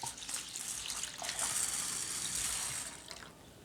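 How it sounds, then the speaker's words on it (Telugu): Urad dal lentils are rinsed in water, with soft close splashing and a gentle running-water wash at low volume and no talking. "మినపప్పుని వాటర్లో శుభ్రంగా కడుక్కొని"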